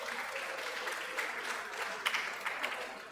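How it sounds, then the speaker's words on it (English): An indoor audience claps together in a steady wash of applause, with a few sharper individual claps rising near the end. "So can we clap for Lagos State,"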